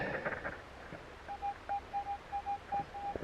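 A metal detector's short repeated electronic beeps pulse at a steady mid pitch while searching a dig spot for a signal, clear but fairly quiet over a soft outdoor background.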